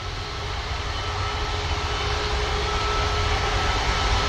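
Jet aircraft engines roar at Manchester Airport, a broad, steady rumble that grows slowly louder as a plane passes nearby.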